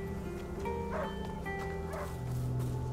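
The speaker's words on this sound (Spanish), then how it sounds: "Está ladrando el perro." A dog in A Plague Tale: Innocence gives a few short barks and yips at moderate distance over a steady droning game ambience, with no one talking.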